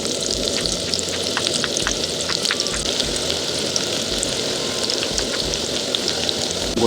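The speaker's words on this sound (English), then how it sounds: "So I'm gonna fry this like the normal process we always use." Onion frying in a sufuria over a gas flame, a steady dense sizzle with crackling pops running throughout, fairly loud and close with no voices.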